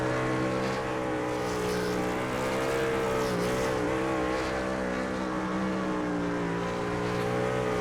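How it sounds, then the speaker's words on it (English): A NASCAR truck doing a burnout in a sim racing game, a steady loud engine drone held at high revs with slight pitch wavers throughout. "We'll see the burnout as well."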